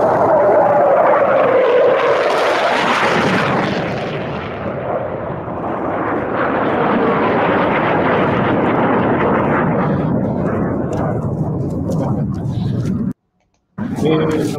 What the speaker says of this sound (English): And he got these F4 Phantoms going through the Mach loop